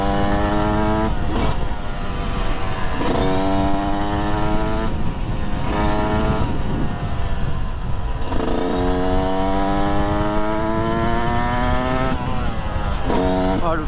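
A Yamaha YZ 125 two-stroke supermoto engine revs hard and continuously, its pitch climbing and falling through repeated throttle blips close to the mic, loud throughout with no talking.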